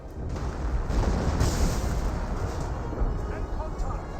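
Artillery barrage in Company of Heroes 1, a dense rolling rumble of shell impacts and booms with scattered gunfire, continuous and heavy, with a commentator talking over it.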